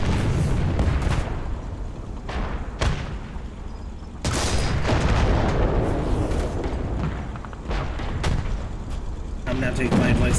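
Tank ammunition detonating in the War Thunder game, heard as loud booming blasts and rumbling explosion noise with sharp cracks, while someone speaks over part of it.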